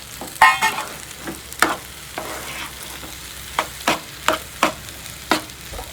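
Chicken and broccoli are stir-fried in a pan for a healthy fried rice, with a soft background sizzle broken by a series of sharp, close scraping and clacking strokes at an irregular rhythm.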